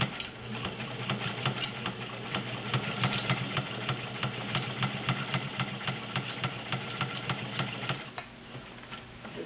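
A vintage White model 530 sewing machine stitches through five layers of denim with a steady, rapid mechanical clatter of evenly spaced ticks, heard up close and alone, easing slightly near the end.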